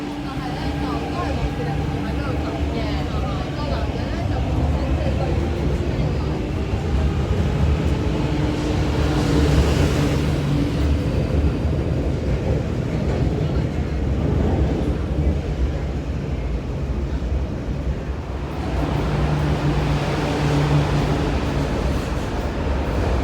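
A train at Ngau Tau Kok station, its steady rumble and hum running throughout at close range, with a rise in noise around the middle and again near the end, and voices faintly mixed in.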